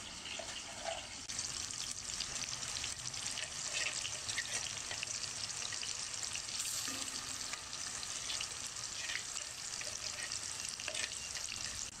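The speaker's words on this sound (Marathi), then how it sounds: "आता मगाशी आपण जे वाटण वगळून ठेवलं ते वाटण ह्या तेलामध्ये आपल्याला घालायचं." Ground masala paste with curry leaves frying in hot oil for a Khandeshi pungli patodi, giving a steady, close, unbroken sizzle that runs the whole time without any voices.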